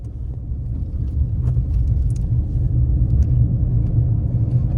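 A 2024 Tata Punch electric car with an automatic transmission is driven on the road, giving a steady, loud low rumble of road and cabin noise throughout, with no speech.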